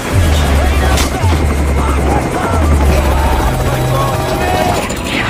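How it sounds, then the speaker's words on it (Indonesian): A military helicopter goes down in a war film, its heavy rotor thump pulsing loudly and continuously while a voice talks over it and a deep rumble of the crash underlies the scene. "Lalu helikopter jatuh, menghancurkan tanah"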